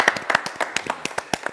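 Audience clapping on a French TV show, a burst of many sharp hand claps in quick irregular succession, close and fairly loud, with a faint voice beneath.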